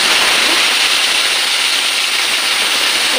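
Bitter gourd drops into hot mustard oil and sets off a dense, loud, unbroken hiss of frying that holds steady throughout, with no voices.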